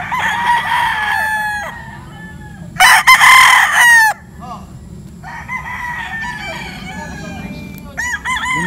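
Gamefowl roosters crow several times at a game farm in Montalban, Rizal, one loud crow close by and others further off, over low background murmur.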